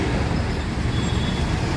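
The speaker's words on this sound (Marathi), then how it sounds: "जबरदस्त ट्रॅफिक आहे बघा हडपसरमध्ये" Dense evening road traffic in Hadapsar, a thick steady rumble of many vehicles and engines, loud and unbroken throughout, with no voices.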